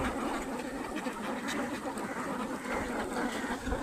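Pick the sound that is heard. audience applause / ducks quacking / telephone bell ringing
ducks quacking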